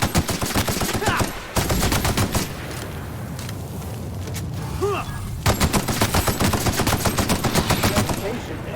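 Rapid rifle fire rattles in The Outer Worlds, with dense automatic bursts that pause briefly for a reload before resuming, loud and close over game ambience.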